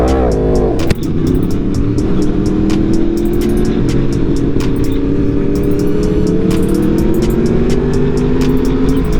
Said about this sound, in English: Good little wheelie pulling out back there, boys.